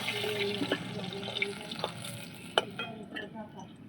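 Fish frying in oil in a pan for a Bengali meal, with a soft, steady sizzle under a few clinking taps of a utensil, heard at moderate distance.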